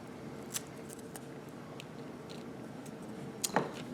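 Scissors cutting a paper snowflake, a few quiet snips and crisp paper rustles over a steady faint background hiss, with a sharper snip near the end.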